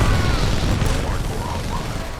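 A Titan's smart core in Titanfall 2 fires a dense, continuous barrage of rapid booming shots and pops, a rumbling wall of weapon fire that stays loud throughout with faint voices underneath.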